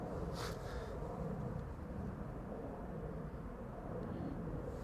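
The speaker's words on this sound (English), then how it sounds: "This is Delta Airlines Flight 91 to Orlando, Florida. It is a 1-year-old A330neo." A Delta Air Lines Airbus A330neo jet departing Amsterdam Schiphol Airport, a steady broad roar of engine thrust, loud and sustained throughout with no talk.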